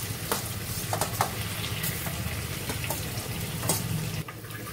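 Onion and chilli paste tipped into oil left from frying bitter gourd gives a steady, close hiss of frying with a few scattered clinks and scrapes, no voices.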